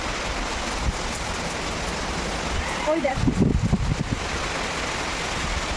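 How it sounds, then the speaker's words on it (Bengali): Steady broadband hiss of heavy rain and gusting wind fills the scene, with a voice speaking briefly partway through. "প্রচুর পরিমাণে বৃষ্টি হচ্ছে"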